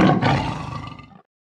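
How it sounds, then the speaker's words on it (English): A tiger's deep, menacing growl rumbles loud and close for just over a second, one sustained roar that fades out abruptly, with no other sound around it. "The tiger growls menacingly from its lair."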